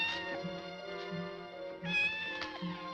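A black cat meows several times in succession, close and clear, with short pauses between the cries and no talk over them.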